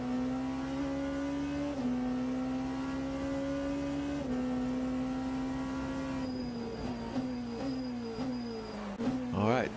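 A GT3 race car engine in the Assetto Corsa Competizione racing game at Sebring holds a steady high drone, then shifts and revs near the end, while a commentator talks over it.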